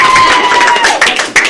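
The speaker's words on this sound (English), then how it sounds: "Everybody who is in the live studio audience, why don't you give a round of applause?" Short burst of applause from a live studio audience at a school leadership podcast recording, loud and close, with dense clapping and crowd noise swelling and ebbing over a second and a half.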